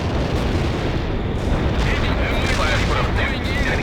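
Heavy artillery strike explosions in the video game World in Conflict, a dense continuous rumble of blasts and booms, loud and sustained, with battlefield voices in the mix.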